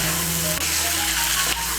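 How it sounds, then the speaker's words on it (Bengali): Soybean chunks and potato frying with spices in a pan, a steady, close sizzle running continuously with faint stirring clicks throughout. "মিশিয়ে নিয়ে সয়াবিন আর আলুটাকে আর একটু ভেজে নেব"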